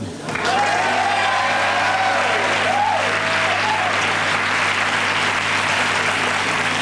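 Studio audience applause on a late-night talk show, a dense, steady wash of clapping that fills the room loudly and continuously from just after the start, with faint cheering mixed in.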